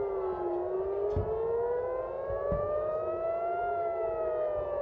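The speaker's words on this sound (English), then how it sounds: "According to the sirens and the rocket alert." Civil defense rocket alert sirens wail across Tel Aviv, a loud rising and falling tone that carries on without a break, with a couple of dull low thumps beneath it.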